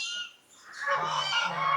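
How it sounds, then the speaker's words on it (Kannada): A turkey at a Wayanad jungle stay lets out a close, nasal gobbling call that fades briefly, then rises again into a louder, rattling burst. "ಟರ್ಕಿ ಕೋಳಿಗಳು"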